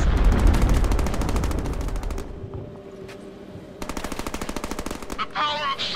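Gunfire in the Deadpool video game: sustained close machine-gun bursts with rapid regular shots, a short pause, then another burst, with a brief voice near the end.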